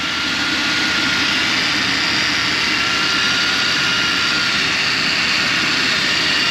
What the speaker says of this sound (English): It's the big old V8.